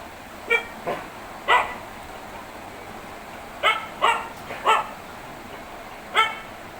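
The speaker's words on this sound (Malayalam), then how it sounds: "ഗ്യാസും വണ്ടിയും വന്നതിൻ്റെ സൗണ്ട് കുരയ്ക്കുന്നു" Dog barking at a gas delivery vehicle arriving at a home, seven or eight sharp barks spaced unevenly over several seconds, fairly close and clear over quiet background noise.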